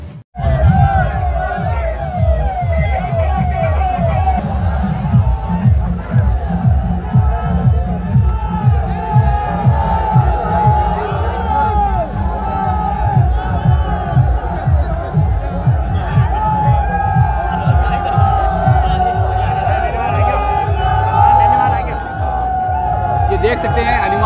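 A large crowd at a political rally in Salasar, heard as a steady, loud babble of many voices with a constant hum that never stops, while a reporter talks over it.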